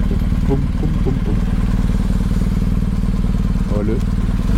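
A Royal Enfield Interceptor motorcycle idles loud and close with a steady, throbbing twin-cylinder pulse, a person speaking briefly over the engine.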